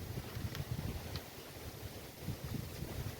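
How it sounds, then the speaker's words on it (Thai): Strong, cold wind gusts around an outdoor spot among tree branches and leaves, a continuous low rumbling buffet against the microphone with faint rustling, loud and steady throughout. "ทุกคนดูลมแรงมากเลยนะครับ"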